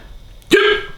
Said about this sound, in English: Sorry, I'm just waiting for the hiccups to go so I can talk about it.